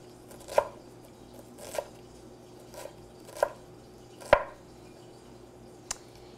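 Knife chopping vegetables on a board in a home kitchen, five or six separate sharp chops spaced about a second apart, fairly close over a low steady background hum.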